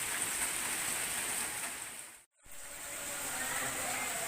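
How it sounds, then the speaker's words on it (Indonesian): Steady rain falls during a flood, a dense hiss that briefly cuts out to near silence before resuming at the same even level. "Hujan masih turun, walaupun tidak terlalu lebat"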